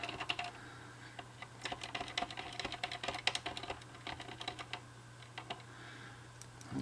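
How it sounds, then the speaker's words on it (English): Apple IIc keyboard keys soaked in cleaning alcohol are pressed down repeatedly, a quick irregular run of close, soft plastic clacks like typing over a low steady hum. "So we'll go ahead and plunge these a few times."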